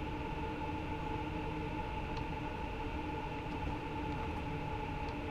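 A Railpool class 187 locomotive train rolling over railway switches on a Rhein-Ruhr main line in Train Sim World, a steady low rumble and hum with faint clicks, no talk.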